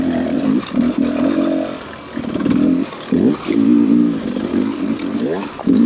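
Beta 300 RR Race Edition dirt bike engine pulling in third gear up a hill, a loud, close two-stroke drone that rises and dips with throttle and clutch work, steady and continuous throughout.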